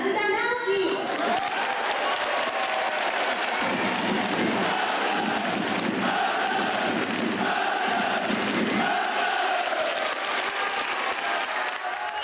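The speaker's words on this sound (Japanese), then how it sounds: "ひときわ大きい声援がサポーターから沸き起こった" Loud, sustained roar of football supporters cheering and applauding as former Japan national team defender Naoki Matsuda is introduced, a dense crowd swell lasting throughout with steady clapping.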